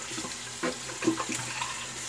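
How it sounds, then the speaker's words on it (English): Tap water runs steadily into a sink while a shaving brush is rinsed out, a close, soft, continuous splashing with small bursts as the brush moves under the stream. "Rinse the brush out."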